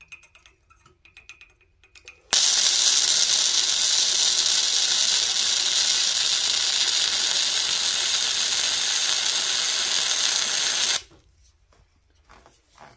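A Rilon RBM135E MIG welder runs a flux-core bead, giving a loud, steady crackling hiss that starts abruptly, holds for about nine seconds and cuts off, with quiet surroundings before and after.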